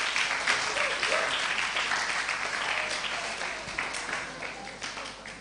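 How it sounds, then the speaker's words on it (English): An audience at an International Day of the Boy Child event claps in a steady, moderately loud burst of applause that gradually thins and fades. "Can you just applaud that?"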